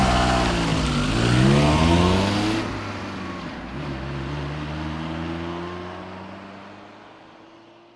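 A stolen car in a church parking lot drives off, its engine revving loudly up and then easing into a steady drone as it pulls away, with no talk.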